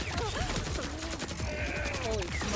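A grenade detonates in a shooter video game, its blast folded into a dense, continuous wash of game gunfire, crashing effects and sweeping whistle-like tones, loud and busy throughout with no clear single boom standing apart.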